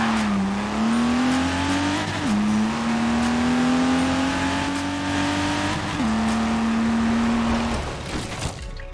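A LEGO car in Forza Horizon 4 drives with a loud, steady engine drone that rises in pitch through several gear shifts and drops back at each change. No voices.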